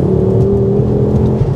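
A Mountune MR375 Mk2 Ford Focus RS powers uphill in third gear around 3,000 revs, giving a continuous close, loud engine hum with a faint whirring layer and slight fluctuations, without any voices.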